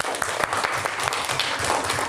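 Classroom applause for a student group, steady dense clapping from many hands filling the whole short stretch at moderate loudness.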